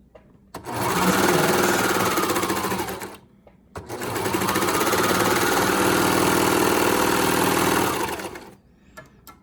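A sewing machine stitches fabric in two long, loud, steady runs of rapid mechanical chatter, separated by a brief pause, with no talking.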